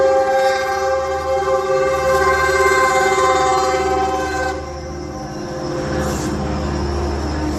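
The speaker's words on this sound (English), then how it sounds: "That's the train." Loud train rolls past at close range with a long sustained horn blast over heavy rumbling wheels, then the horn cuts off and the rail noise carries on at a lower level.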